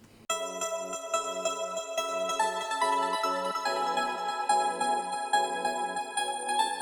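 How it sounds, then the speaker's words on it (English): A chopped sample melody layered with a synth patch, bright harmonic tones stepping through a melodic line in a steady rhythm after a sudden start, played alone with no talking. "So I layered that with the same synth patch that you've heard."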